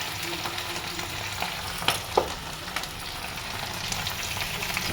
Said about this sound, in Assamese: চিকেনখিনি দি পেলাই মই এইখিনি অলপ সময় একদম চিকেনখিনি ভাজ খোৱালৈকে ভাজি থাকিম